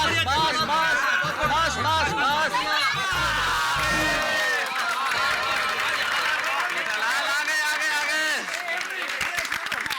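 A crowd of people cheers and claps in a lively outdoor scene from the Indian sitcom Taarak Mehta Ka Ooltah Chashmah, with voices calling out over steady applause throughout.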